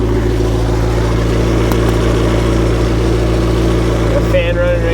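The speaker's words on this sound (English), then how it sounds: "Fan running right there." A McLaren sits idling after a driveline damper replacement, its engine a steady low hum with the radiator cooling fan whirring continuously alongside, close and loud, with no talking.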